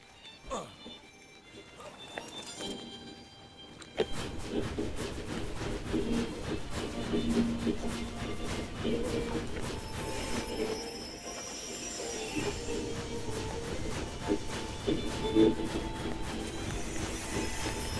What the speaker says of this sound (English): We're going to hop on the train again to continue the tour.